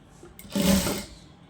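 A sewing machine runs one short burst while stitching a drawstring channel for a petticoat. The whir swells and fades within about a second, close and clear, with no talk.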